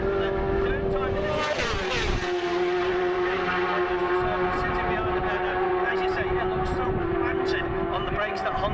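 A Honda race car brakes on a track near the Juniper Hill chicane, its high engine note dropping and shifting under a steady roar of racing cars, with a commentator talking over it throughout.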